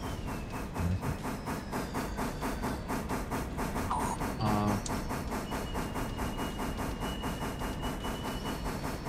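Steam train from a 1935 cartoon arriving, a steady rhythmic chuffing with hissing steam and a few bell-like dings and clanks partway through, moderately loud and continuous throughout.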